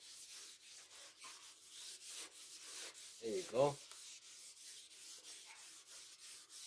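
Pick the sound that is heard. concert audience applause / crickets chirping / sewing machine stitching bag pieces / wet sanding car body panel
wet sanding car body panel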